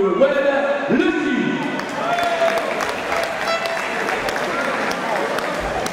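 Applause from the crowd at a French boxing event, welcoming the evening's supervising official; steady broad clapping fills the hall with an announcer's voice and crowd noise mixed in.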